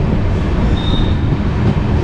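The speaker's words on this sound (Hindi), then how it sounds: "आप लोग देख सकते हो लगभग 2 घंटे की देरी से ट्रेन चल रही है।" A passenger train with LHB coaches running between Lucknow and Mailani, heard from inside as a loud, steady rumble of wheels on rails with a brief high squeal.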